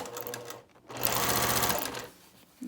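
A sewing machine stitching a quilt block with a 1/4 inch foot runs in a steady close whir, pauses briefly, then runs again in a longer continuous burst before stopping.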